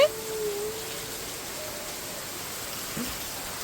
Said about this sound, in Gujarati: વરસાદ આવ્યો હે